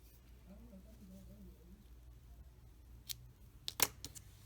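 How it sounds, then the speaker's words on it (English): Scissors snip through crochet yarn while making a small bag: a few quick, sharp cuts near the end, close and fairly faint, after a quiet stretch with a faint voice-like hum in the background. "I need to cut my yarn."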